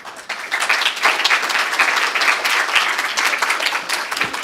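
Audience applause fills a church General Assembly hall, a dense, steady wash of many hands clapping that swells quickly and holds throughout without speech.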